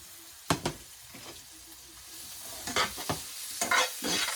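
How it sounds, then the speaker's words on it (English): A spoon stirs garlic and parsley in a hot pan. Scraping strokes sound in short irregular bursts over a faint background sizzle, close and moderately loud. "Let's stir this around"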